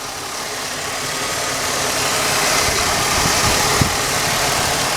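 A car engine with over 200,000 miles idles steadily up close, a smooth continuous rumble with faint vibration and one brief tick near the end.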